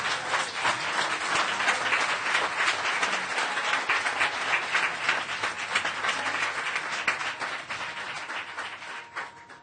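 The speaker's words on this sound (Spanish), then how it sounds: "Dale un aplauso al Señor." A church congregation at a worship service claps in sustained applause, a loud, dense patter of many hands that swells and then gradually fades toward the end.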